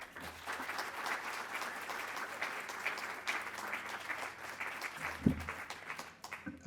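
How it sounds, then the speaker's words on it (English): Applause from an audience at a community gathering rolls on steadily for several seconds, moderately distant, with a brief louder bump near the end before it fades. "Give a round of applause for Carol."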